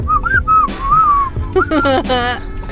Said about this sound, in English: Do you guys know how to whistle like this?